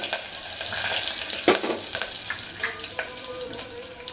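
Green chillies and curry leaves frying in hot oil for a sambar tempering, a close, crackling sizzle with a few sharper pops.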